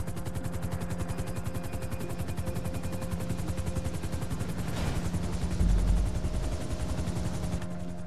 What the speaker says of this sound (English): Bring the chopper down easy.